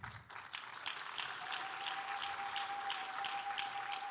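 A congregation in a church breaks into steady, sustained applause, a dense patter of many hands clapping at moderate distance for about four seconds.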